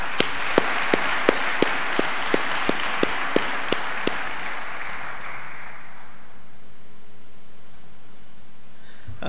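An audience applauding at a public lecture, a full burst of clapping that holds steady for several seconds with a few sharp, even knocks on top, then fades away into room quiet.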